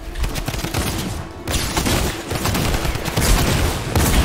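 Rapid gunfire in the Fortnite video game, a dense, loud volley of overlapping shots and bursts that carries on for several seconds with barely a pause.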